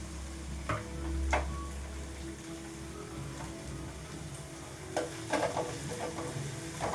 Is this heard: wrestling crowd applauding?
no